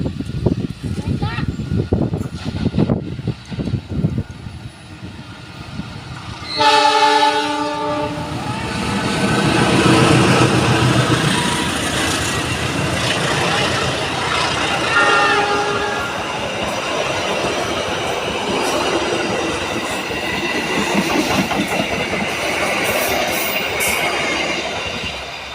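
A train rolls past nearby with a loud rumble and clattering wheels. A horn-like tone sounds early on, and voices can be heard at the start.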